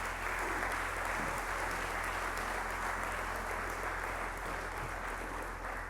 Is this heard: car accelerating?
no